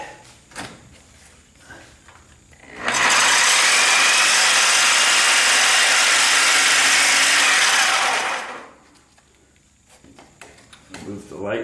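A saw cutting through a bolt to free the trailing arm on a 1976 Corvette, a loud, steady broadband rasp lasting several seconds, with quieter handling noises and faint clatter before and after.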